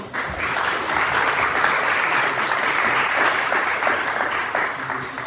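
Steady applause from a restaurant audience at a tourism event for content creators, dense clapping filling the room for about five seconds without a break and tapering slightly at the end.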